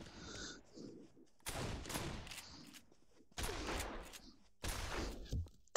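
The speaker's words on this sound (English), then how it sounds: "the pump action shotgun" Pump-action shotgun blasts in the Pavlov VR video game, three loud booming shots spaced about a second apart, with mechanical clacks of the pump between them.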